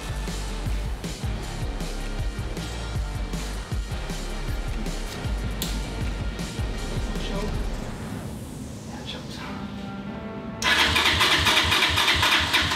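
Small quad engine on a rebuilt junk machine cranked and started, chugging unevenly at first before catching and running louder toward the end, close to the listener with brief voices mixed in.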